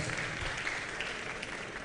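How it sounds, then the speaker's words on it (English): Lecture audience at a college of engineering public talk on artificial intelligence applauding, a brief, uniform patter of many hands at moderate distance, steady throughout. "A round of applause."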